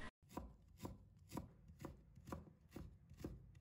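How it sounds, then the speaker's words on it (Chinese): Peeled ginger sliced and shredded on a board, a knife striking in a steady rhythm of about seven close, crisp chops with no voices. "再准备1块去皮的生姜，把它切成片， 再切成丝"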